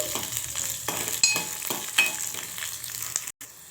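Garlic cloves, ginger pieces and coriander seeds fry in a pan for mutton curry, giving a soft, steady sizzle broken by a few short stirring scrapes and clinks, ending in a brief cutoff.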